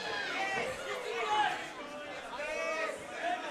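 Dense crowd chatter and shouting fills an arena at an amateur fight night event, a sustained loud roar with rising cheers, voices overlapping with no single speaker standing out.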